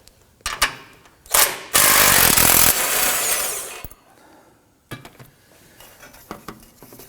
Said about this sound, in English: we're going to loosen and remove our 15mm bolt